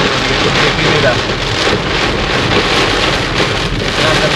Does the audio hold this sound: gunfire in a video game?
no